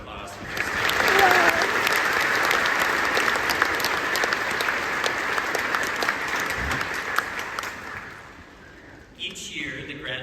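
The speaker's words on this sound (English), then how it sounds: "So one more round of applause for those two." A graduation audience gives sustained applause for two speakers at a 2025 ceremony. The dense clapping holds loud for about eight seconds, then fades, and a voice comes in at the end.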